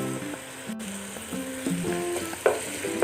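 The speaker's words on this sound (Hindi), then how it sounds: "लहसुन हमारा सौते हो गया।" Garlic sautés in a pan with a steady sizzle, while soft stirring scrapes and clinks come and go over a continuous frying hiss.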